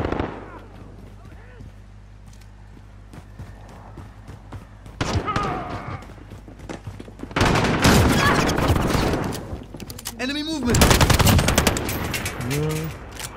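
Gunfire in Call of Duty Modern Warfare on PS4 comes in loud bursts of rapid automatic shots and explosions after a quiet opening, with a player's voice talking in between.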